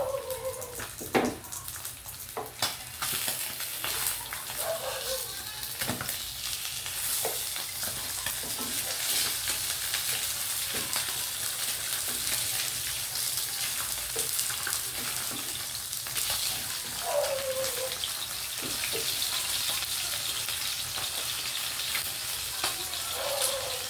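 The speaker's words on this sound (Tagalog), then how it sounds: "Gigisa natin yung ating gulay." Vegetables sauté in a hot pan with a steady, close sizzle, broken by occasional scrapes and clinks of a utensil stirring them, continuous throughout.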